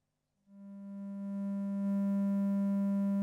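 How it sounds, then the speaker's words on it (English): A pure sine wave from a synthesizer oscillator fed through an amplifier fades in after a brief silence, then holds as a steady, loud, unchanging tone. "connect the output of the sine wave into the input of our amplifier"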